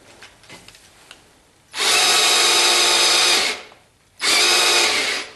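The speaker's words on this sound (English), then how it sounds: "drill and pumped some oil into it" A handheld power drill used to pump oil into a pushrod lifter on a 1976 Corvette engine whirs loudly in two steady bursts, the first about two seconds long and the second shorter, with quieter clicks and handling sounds before them.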